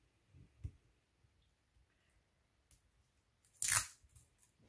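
A few soft clicks and handling noises, then one loud, quick rip of adhesive tape being torn close by.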